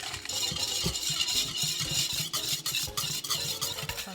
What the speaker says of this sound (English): stir 2 minutes until completely dissolves